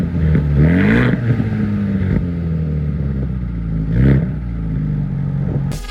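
A car's exhaust, set to a selectable exhaust mode, revs in a few loud, close bursts that rise and fall over a steady engine note, with no talking.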